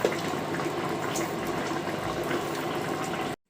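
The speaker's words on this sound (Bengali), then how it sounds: "এই জন্য আমি একটু পানি দিলাম" Water gushes steadily into a pan of fish and cauliflower curry, a continuous splashing pour for about three seconds that cuts off abruptly into silence.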